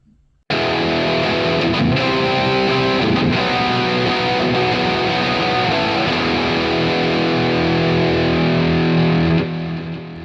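Heavily distorted electric guitar, a red Epiphone Les Paul with bridge and neck pickups, rings out in sustained, thick chords, loud and alone, then cuts off near the end.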